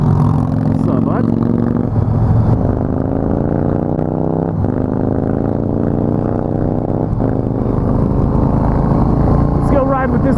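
A motorcycle engine rumbles and revs nearby while riding, a steady loud drone with rising and falling gear pulls, heard under wind and someone talking.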